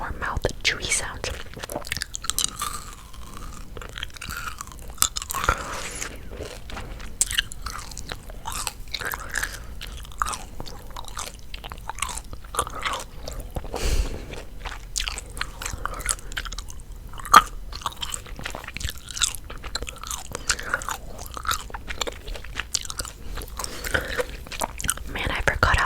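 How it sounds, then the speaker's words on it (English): Close, wet gum chewing and soft mouth sounds in a whispered ASMR session, with steady sticky smacks and clicks running throughout under quiet whispered talk. "I grab another piece of gum, for more chewy sounds, more mouth chewy sounds"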